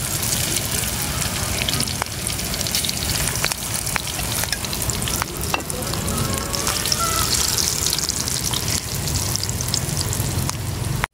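Jackfruit leaves dipped in egg deep-fry in hot oil, a dense, continuous crackling sizzle with scattered sharp pops, close and loud throughout, no voices.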